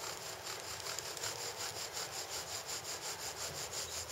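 A bow drill spins a cottonwood spindle into a second divot, giving a steady, faint back-and-forth rubbing and grinding rhythm with regular strokes throughout.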